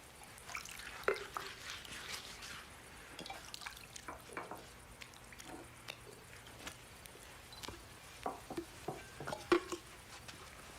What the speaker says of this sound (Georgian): ჩაასხა წყალი საბანელში და დაიწყო მოწაფეების ფეხის ბანა